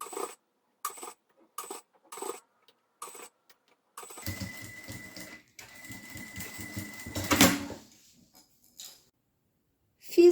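Sewing machine stitching a bias binding along the edge of a fabric card holder, heard as several short separate bursts, then a longer continuous run of stitching at close range.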